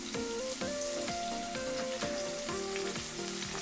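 Mushrooms hit hot oil and frying spice masala, making a steady, dense sizzle throughout, with background music playing over it.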